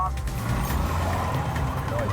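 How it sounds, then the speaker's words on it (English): A stolen Audi races flat out along a motorway in a police chase, a loud continuous engine and road roar filling the recording with steady rumble throughout. "The stolen Audi disappears fast into the distance."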